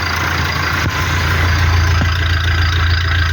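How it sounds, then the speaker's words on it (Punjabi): A Massey Ferguson 385 tractor engine running in neutral, a steady, loud, close diesel drone with an even low throb throughout and no talk. "ਟਰੈਕਟਰ ਦਾ ਸਾਊਂਡ ਚੈੱਕ ਕਰੋ ਇੱਕ ਵਾਰੀ।"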